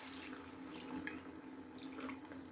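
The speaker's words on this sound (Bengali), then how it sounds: "একটুখানি এই এতটার মতন জল দিয়ে দিচ্ছি" Water poured into a pot of khichuri cooking in oil, a faint steady trickling and splashing stream with a low hum beneath, no speech.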